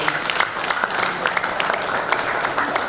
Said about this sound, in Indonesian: Berikan tepuk tangan untuk para pengurus.